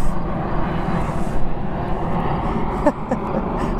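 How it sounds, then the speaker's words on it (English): An airplane passes close overhead outdoors, a broad steady engine roar and rumble filling the clip, with faint voices and other outdoor noise around it. "the airplane is flying overhead to say yes, yes"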